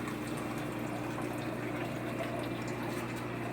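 Water drains steadily from an aquaponics grow bed into an IBC tote fish tank, a continuous close splashing trickle over a low pump hum.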